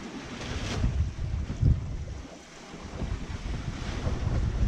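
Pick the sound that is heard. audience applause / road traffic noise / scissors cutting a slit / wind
wind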